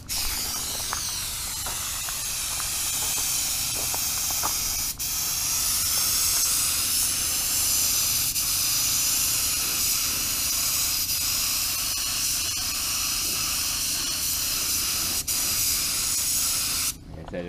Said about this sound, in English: Does it spray nice?